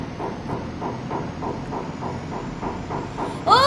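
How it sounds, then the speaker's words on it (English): A passing train on a railway gives a steady, moderately loud rhythm of wheel clacks on the rail joints, repeating evenly, with a brief bright squeal near the end. "Oh wow, there is another train."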